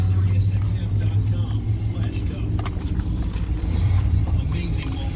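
A 2007 Chevy Suburban LT, a high-mileage trade-in, idles smoothly with a steady low engine rumble close by, and a voice talks faintly over it.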